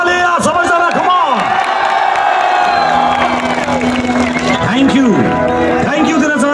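Loud crowd cheering, whooping and clapping at a food festival concert, with shouts and excited voices over the steady roar, close and energetic throughout.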